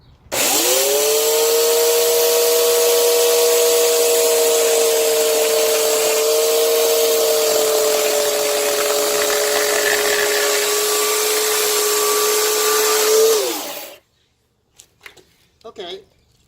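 A WORX 18-inch, 15-amp electric chainsaw whines up to a loud, steady high-pitched drone while cutting a small split of wood, holding for about thirteen seconds before spinning down abruptly, followed by a few faint clicks.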